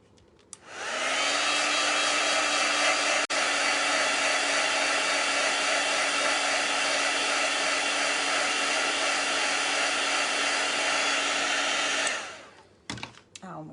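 Heat or hair dryer blowing steadily and loudly for about twelve seconds while drying a freshly stamped paper craft sentiment, then switching off.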